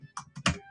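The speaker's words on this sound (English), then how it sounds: "I'm just typing a message" Quick taps on a computer keyboard while a message is typed, a few close, soft keystrokes in a short burst with no talking.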